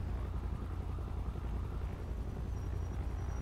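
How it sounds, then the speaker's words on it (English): A police helicopter in a video game gives a steady, dense low rotor and engine rumble throughout, constant and fairly loud, with no talking. "There's the cop heli though."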